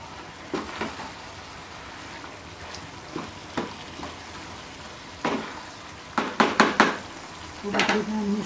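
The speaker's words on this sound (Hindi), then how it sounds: "खोल के इसको अच्छी तरह मिक्स करेंगे।" Palak aloo being stirred in a cooking pot: a series of soft scraping and clattering strokes, a few isolated ones early, then a quick burst of four or five louder scrapes near the end, over a low background hiss.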